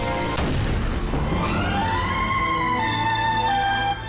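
Bulky muzzle loader rifle fired at a charging grizzly, a single sharp loud boom followed by a long rolling echo that fades over several seconds.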